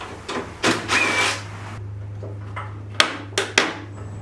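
Short bursts of a power drill whirring in quick spurts as it removes screws from a 2016 Suzuki GSX-S1000F motorcycle's cowl, close by, with a low steady hum underneath and a few sharp clicks.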